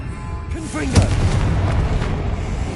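A Confringo fire spell explodes during combat in Hogwarts Legacy, a sharp booming burst near the start followed by rumbling crackle, with voices and speech-like tones layered over the game sound.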